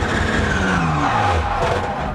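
Onboard a Supersport BMW race car at Spa-Francorchamps during a lurid high-speed spin, with loud continuous engine roar and gliding pitch as revs rise and fall, rough tire and wind noise throughout.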